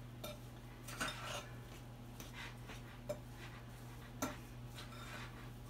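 Milk being stirred into Carbquik baking mix in a bowl, with faint scattered clinks of a utensil against the bowl over a steady low hum; quiet, close and sparse.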